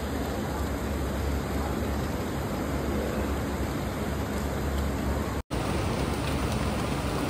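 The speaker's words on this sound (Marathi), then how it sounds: "पाऊस पण मस्त आलेला आहे" Steady rain hisses continuously, a dense even wash of noise that cuts out for an instant before resuming.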